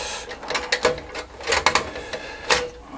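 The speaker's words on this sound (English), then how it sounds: "try and get all the screws pulled up." Screws being worked loose from an Amiga 2000 computer board, a close series of sharp metallic clicks and scraping taps in an irregular rhythm, fairly loud and without talk.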